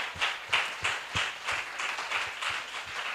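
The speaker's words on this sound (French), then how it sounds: "Saluons-le par les acclamations." Church congregation claps in a loose rhythmic pattern with some cheering to welcome a preacher, moderately loud and continuous.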